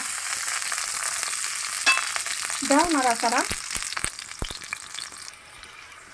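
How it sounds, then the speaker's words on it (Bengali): Onions frying in oil in a wok, a loud sizzle under short bursts of conversation, with several sharp clanks from a utensil against the pan. "তাই আমার পেঁয়াজটার একটু ভাজা ভাজা করতে হবে"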